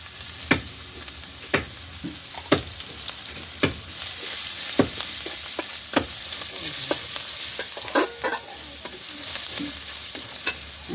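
Water lily stems and onions sizzle in leftover hilsa fish oil in a pan, a continuous hot frying hiss broken by sharp, irregular clacks of a stirring spoon against the pan.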